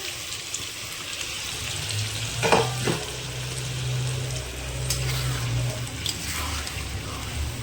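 Butter chicken curry masala stir-fried in a pan, a steady sizzle with scraping spoon strokes and a brief splash of water, close and continuous with no talk.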